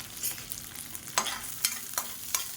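Red chilies, green chilies and ginger frying in a pan give off a faint, steady sizzle, broken by four or five sharp scraping stir strokes.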